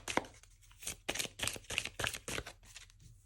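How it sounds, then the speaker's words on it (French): Playing cards are drawn from a deck and shuffled, giving a run of crisp riffling snaps and slides in close, quiet bursts with no voice. "On va donc du coup tirer une carte"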